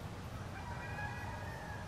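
A rooster crows once in a long drawn-out call on a farm, fairly faint and distant above steady low background rumble, with no one talking.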